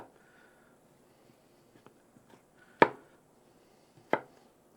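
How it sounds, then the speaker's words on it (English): Potatoes are cut with a knife on a cutting board: two sharp, loud chops ring out close by, with a few faint taps between them in an otherwise quiet room. "So I'm gonna get the rest of these cut up and we'll cut that onion up."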